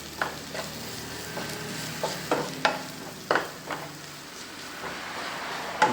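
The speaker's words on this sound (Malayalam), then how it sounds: "ഇനി ഇതൊന്ന് മൂപ്പിക്കട്ടെ." Ground spice powders, coriander, chilli, turmeric and garam masala, frying in a pan for a curry, a soft steady sizzle broken by several sharp scraping stirs of a spoon, with no talking.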